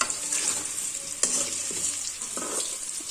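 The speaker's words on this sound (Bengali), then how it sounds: "মাংসের আলু আর মাছের ঝোলের আলু একসাথে ভাজা হচ্ছে" Round and long-cut potato pieces, meant for meat and fish curries, fry together in oil in a pan. A loud, close, continuous sizzle is punctuated by the scrape of stirring.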